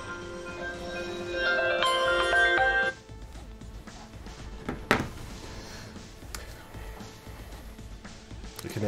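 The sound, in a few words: cell phone ringing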